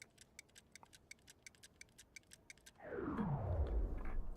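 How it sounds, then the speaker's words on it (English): Steady, quick ticking of a countdown timer in a video game, faint and regular, then a loud low rushing whoosh sweeps in and dominates the last second and a half. "I hear a timer ticking."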